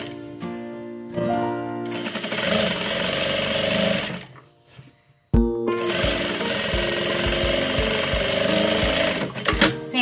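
A sewing machine stitches the hem of a man's elastic-waist trouser leg, running in fast loud mechanical bursts, stopping briefly midway, then starting again and running steadily.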